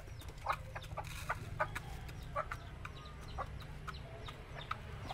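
A few chickens, about three left on a farm, cluck in short scattered calls at moderate distance over a constant low rumble of background noise.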